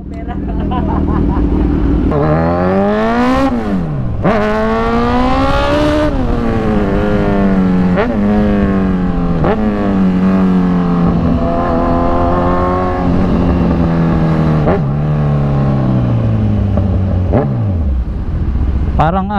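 A Kawasaki Z1000 big bike engine revs loud and close, its pitch rising and falling through repeated throttle blips and long revving sweeps, with a voice faintly under the engine.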